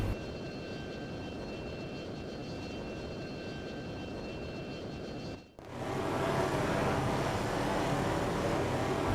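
Steady, loud aircraft engine roar from a jet fighter in the F-22 Total Air War flight game, trailing slow C-130 transport planes; the drone briefly dips and cuts around the middle, then resumes fuller and louder.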